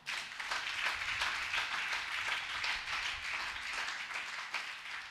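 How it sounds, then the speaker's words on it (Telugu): An audience claps steadily for several seconds, a dense even patter of many hands at moderate distance, fairly quiet, with no voices over it. "చప్పట్లు కొట్టకూడదా?"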